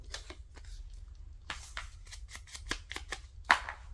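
Scissors cutting paper at close range while trimming a mini glassine craft piece, a quick series of crisp snips with uneven spacing, the last one a little sharper.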